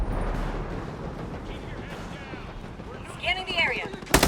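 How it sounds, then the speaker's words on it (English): Incoming mortar fire in Ghost Recon Breakpoint, a muffled rumbling barrage under game radio chatter, building to a sharp loud blast at the very end. "Sending mortars our way!"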